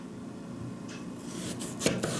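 Potatoes and carrots being diced into cubes with a knife on a board, a few soft cutting strokes building to a sharper chop near the end.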